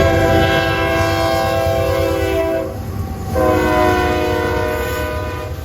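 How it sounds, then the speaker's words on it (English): A CSX locomotive horn blares loud and sustained as the train passes, holding a harmonic chord. It dips briefly near the middle, then resumes over a steady rumble of rolling rail cars. "the horn is beautiful and I could listen to it all day"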